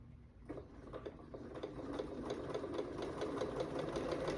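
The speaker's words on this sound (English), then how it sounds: "then you sew on to the next one" A sewing machine chain-pieces quilt blocks in one continuous, even whir with a rapid needle rhythm, close and steady throughout with no talk.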